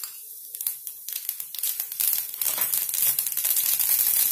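Mustard and cumin seeds spluttering in hot oil, a dense run of sharp crackles and pops that starts sparse and quickly builds into a continuous sizzle, close and alone without talk.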